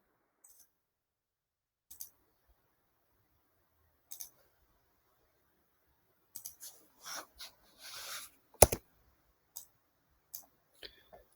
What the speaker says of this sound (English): finish drawing your lines